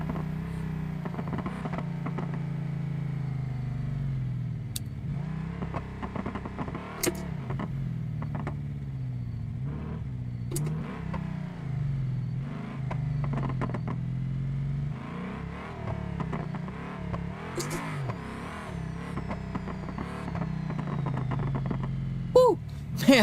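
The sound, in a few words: car exhaust in a video game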